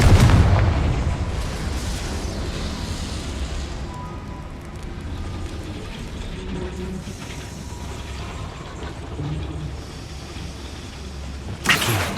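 A Confringo spell in Hogwarts Legacy sounds as a deep, booming explosion at the start, followed by a long stretch of low rumbling and mechanical ratcheting game sounds, then a short sharp burst near the end.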